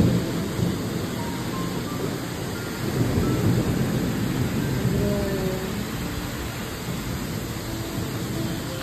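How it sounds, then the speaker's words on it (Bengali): Heavy, continuous rain pours down during a thunderstorm as low thunder rumbles and swells beneath the steady downpour, loud and close throughout. "এই যে দেখো কন্টিনিউ 1 ঘন্টা ধরে বৃষ্টি হচ্ছে, বাপরে বাপ কি মেঘ, বিদ্যুৎ চমকাচ্ছে, দেখো দেখো কি বৃষ্টি।"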